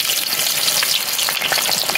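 Onions browning in hot oil for a chicken and arbi curry give a steady, close, dense sizzle with faint stirring scrapes, no voices.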